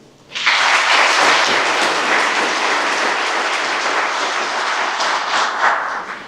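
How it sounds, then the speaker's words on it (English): Banquet audience at a Muleshoe chamber dinner breaks into applause for the board of directors, a sudden full burst of clapping that holds steady for several seconds before easing slightly. "Let's give our board of directors a round of applause."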